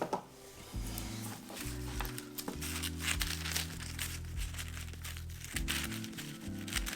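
Poorly working scissors cut tissue paper up close, with continuous crinkling and rustling over a low steady hum, no voices.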